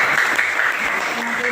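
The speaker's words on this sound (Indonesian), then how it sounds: "tepuk tangan untuk Nanda Rizka." Children in a classroom lesson clap together in a brief burst of applause, fairly loud and close, with a voice faintly present underneath.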